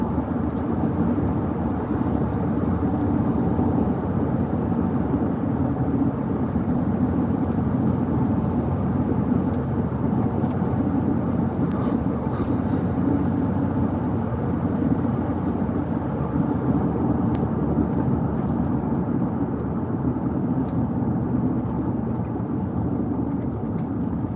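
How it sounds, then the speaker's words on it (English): A pickup truck's engine drones low and even while driving, a soft steady rumble with road and wind noise running unbroken and no talking over it. "This truck is too quiet for me."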